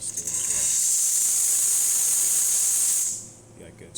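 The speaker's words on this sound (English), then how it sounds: "I'm just going to test the steam" Steam wand on a Pasquini Livia 90 espresso machine, serviced and inspected, lets out a loud, close, steady hiss for about three seconds before cutting off sharply into quiet.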